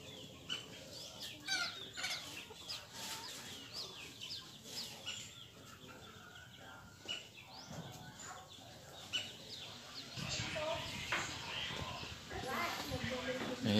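Free-range chickens cluck and chatter in a garden coop shaded by a tree, scattered calls rising in a busier burst near the end, while a person talks over them.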